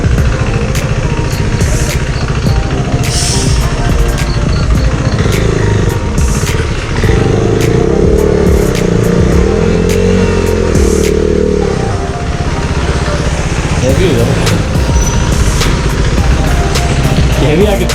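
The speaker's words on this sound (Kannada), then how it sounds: "off roading bike" An off-road motorcycle rides through heavy rain on a Western Ghats route. The engine is loud and close and surges and idles over rough ground, with clattering knocks and people talking over it throughout.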